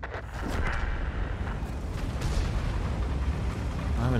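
Artillery shells from World of Tanks land in heavy, rumbling booms during a tank battle with the WZ-111 5A Qilin, several deep impacts rolling over one another with no talk.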